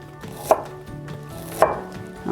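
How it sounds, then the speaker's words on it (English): A kitchen knife slices thin pieces from a piece of fresh ginger on a cutting board, giving two sharp, close chopping thuds about a second apart with a third beginning at the end, and no voices. "I've got a nice bit of ginger here. I'm just going to cut off about 3 or 4 thin slices."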